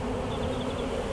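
Honey bees buzz thickly around a hive at a cell-builder colony, a close, continuous dense drone lasting only a moment.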